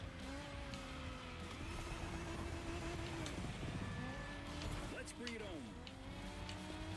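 A car drifts through a corner in The Crew Motorfest racing game, its engine droning steadily with a squealing tyre whine rising and falling, while a voice talks over the continuous game sound.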